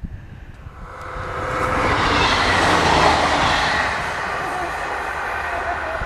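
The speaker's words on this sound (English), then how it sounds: "That's an East Midland train running from Norwich to Nottingham." An East Midlands passenger train from Norwich to Nottingham passes nearby, a broad rushing rumble swelling to a peak midway and easing off as it recedes, with no talk over it.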